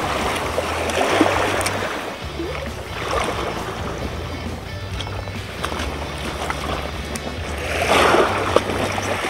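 Choppy, high waves on Lake Biwa's north basin in late summer wash and slosh steadily against the shore or boat, with a constant churning roar that swells near the end; no voices.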